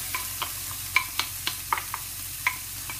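Onion frying in a pan for kefta tajine, with a soft, steady sizzle broken by sharp utensil clicks and stirring knocks at irregular intervals, fairly quiet and close.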